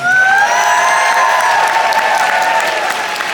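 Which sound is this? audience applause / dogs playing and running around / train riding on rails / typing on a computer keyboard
audience applause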